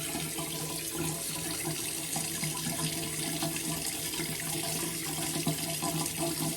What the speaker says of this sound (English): we're going to pull a new sink of hot water for cleanup purposes